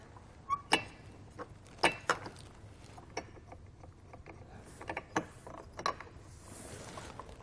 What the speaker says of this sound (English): And I'm slowly tightening it into place.